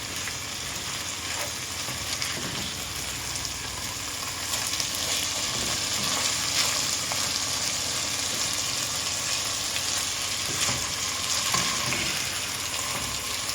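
Rice frying in a pot with ghee and a spoonful of oil, a steady close sizzle and crackle holding throughout, with no voices.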